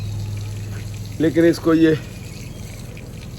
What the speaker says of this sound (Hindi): तराई ये पानी देना ज़रूरी होता